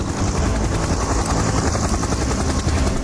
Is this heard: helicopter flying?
yes